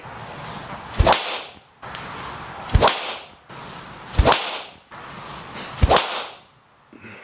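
Four sharp strikes from a Titleist TSR driver, each a crisp crack followed by a short airy fade, evenly spaced about two seconds apart.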